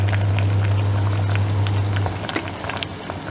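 Mutton bone curry (kuzhambu) bubbling in a pot, giving a dense, steady simmering crackle with a low hum underneath for about two seconds before it quietens, with no talk.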